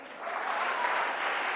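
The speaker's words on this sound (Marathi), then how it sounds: "टाळ्या वाजवणार आहेत का तुम्ही?" An audience at a book launch event claps together in steady, continuous applause that swells slightly and holds with no talk over it.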